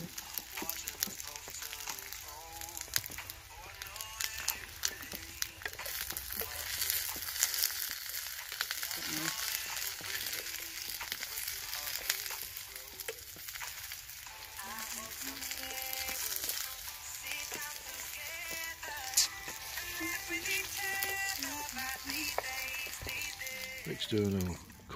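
Onions frying in a pan and being stirred, a continuous close sizzle with scraping stir sounds, while people talk over it.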